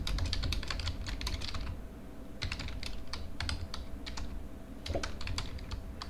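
Rapid bursts of keystrokes on a computer keyboard as a command is typed at a terminal prompt, clicking in quick clusters separated by short pauses, close and fairly quiet.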